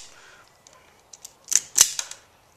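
A quick wire stripper biting and pulling insulation off electrical wires while rewiring a fluorescent light fixture, giving a few sharp close snaps and clicks in quick succession against near silence.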